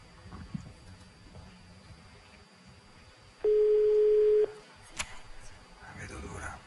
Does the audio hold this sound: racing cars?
no